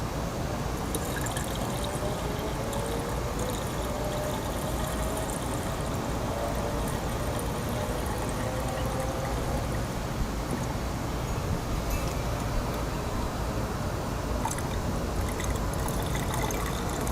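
Antifreeze coolant being poured into the reservoir of a 2018 Volvo S90, a steady close trickle and gurgle of liquid running continuously with no talking.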